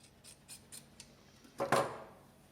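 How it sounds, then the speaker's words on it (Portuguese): Scissors snip fabric scraps for a patchwork basket: a few light, evenly spaced clicks, then one louder, longer cutting crunch, close up with no talking. "Vou pegar a tesoura aqui"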